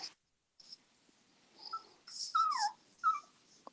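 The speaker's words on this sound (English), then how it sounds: "is there like a puppy?" A little puppy whimpers softly in a quiet room, a few faint high-pitched whines and squeaks in short bursts with brief pauses between them.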